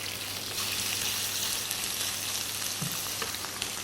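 Minced pork and shallots stir-frying in a pan, a continuous close hiss of sizzling oil with faint scraping of a utensil throughout.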